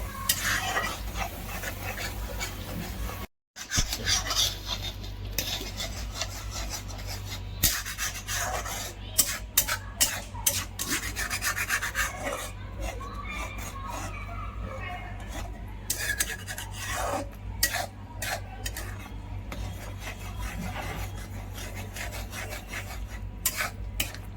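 Masala with curry leaves is sautéed in oil in a pan for homemade matar paneer, close rasping scrapes of the spatula repeating over a low frying hiss, with one brief dropout near the start.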